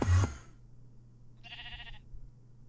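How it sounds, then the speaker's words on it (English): A Minecraft sheep gives a short bleat midway, clear and a little nasal, coming after a brief loud thump at the start and with quiet background between. "So I guess this sheep is now inside of the gauntlet."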